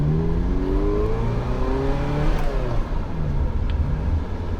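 A Ferrari 348 TS pulls away hard from a standstill, its engine note climbing steadily through the revs in a loud, continuous rising roar with no talk over it.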